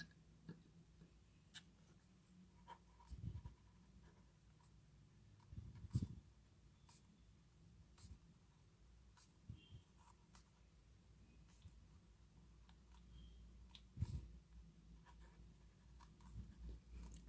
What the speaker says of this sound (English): And here let me give a writing sample.